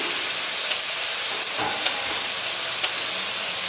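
Large tomatoes hit a hot pan of sautéed ginger garlic paste, giving a continuous loud sizzle and hiss with faint bubbling pops, close up and without talk.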